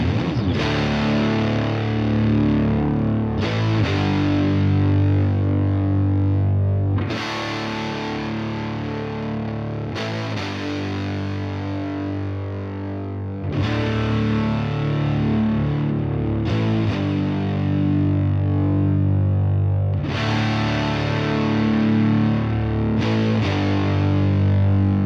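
Doubled, distorted electric guitars, recorded with SM57 and Royer 121 microphones, chug through heavy rhythmic chord riffs in repeating phrases with brief stops between them, loud, full and alone.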